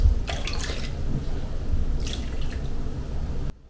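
Warm water poured into a bowl for sourdough, a steady splashing trickle with drips, close and continuous for a few seconds before stopping abruptly.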